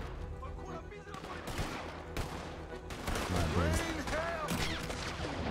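Gunfire in Red Dead Redemption 2 during an outlaw shootout, a loud dense volley of shots and sharp cracks running throughout with a busy game mix and tonal effects, while a player talks over parts of it.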